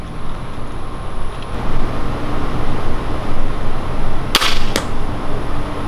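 Arrows shot from a bow at a target during archery practice: two sharp, quick releases or impacts close together near the end, set against a steady rumble of outdoor background noise.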